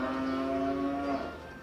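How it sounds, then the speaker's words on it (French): Cows in a herd of pregnant research cattle at a French agricultural research station give a long, steady moo lasting over a second, fairly close and clear, followed by quieter barn ambience. "Dans ce troupeau de vaches gestantes"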